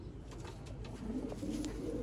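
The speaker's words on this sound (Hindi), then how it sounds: "साफ आंख के कबूतर" Sialkoti pigeons coo softly in a low, throaty rhythm, a few repeated calls close by against a steady background hum.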